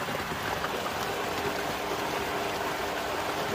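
Water from a 24-inch XtremepowerUS sand filter pouring steadily out of a drain hose outdoors, a constant close rushing splash with no pauses.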